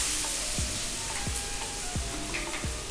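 Chopped onions fry in hot oil with bay leaf and whole dried chillies for a dhaba-style egg curry, a steady close sizzle broken by repeated scraping strokes of a stirring spoon.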